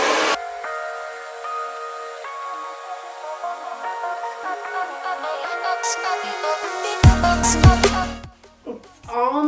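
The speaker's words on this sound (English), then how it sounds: "So you want to have the blow dry on the roots." A hair dryer blows steadily on the roots of short pixie-cut hair, a continuous close whooshing hiss that shifts slightly as it moves, then cuts out briefly near the end before starting again.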